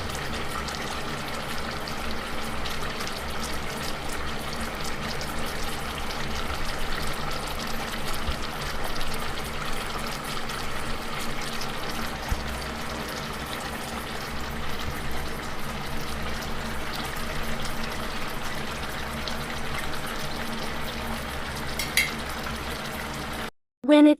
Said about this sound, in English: Add in the pork, boil to simmer for an hour or until the meat tenderized.